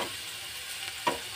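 Raw eggs hitting hot oil in a pan for masala anda bhurji, a steady close sizzle and crackle with one brief scrape of stirring near the end.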